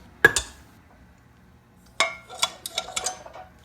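A frying pan lifted down in a home kitchen, giving two sharp metallic clanks near the start, then after a pause a cluster of lighter clinks and knocks of cookware being handled close by.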